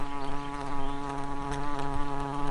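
A paper wasp fanning its wings to cool its nest makes a steady buzz, humming continuously with a rich droning tone, close and fairly loud, wavering slightly in intensity with no voices.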